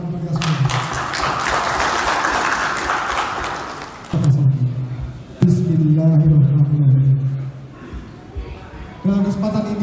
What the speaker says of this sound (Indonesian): Mohon tepuk tangan untuk kita semua